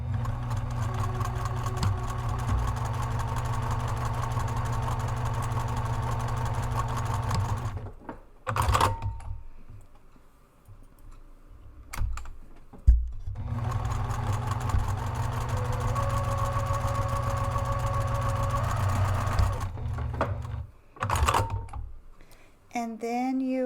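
A sewing machine stitches the short edges of a fabric zipper panel in two long, even runs of rapid mechanical whirring, close up and separated by brief pauses and handling noise.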